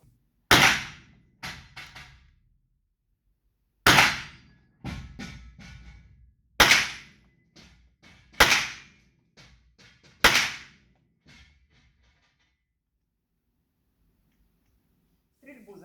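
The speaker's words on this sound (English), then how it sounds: "And now I'm shooting with a red dot." Gunshots at an outdoor shooting range, fired with a Vzor-4 red dot sight: five sharp, loud reports spaced a few seconds apart, each followed by echoes and small clinks, with a moment of quiet at the end.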